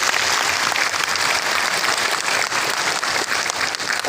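Applause from the audience at a village programme event, dense and loud, a steady roar of clapping hands that fills the whole stretch without any voices.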